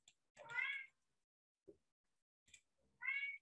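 A house cat meows indoors, two clear drawn-out calls about two seconds apart with faint small sounds between them.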